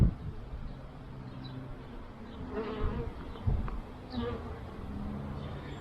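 Honey bees buzzing steadily around a small urban beehive during an inspection, a soft continuous drone with occasional louder passes of individual bees close by.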